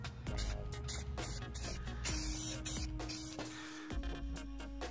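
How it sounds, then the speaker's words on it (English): Rust-Oleum spray paint hissing from an aerosol can in a run of short bursts, steady and close, with no voices. "we're going to spray bomb this thing."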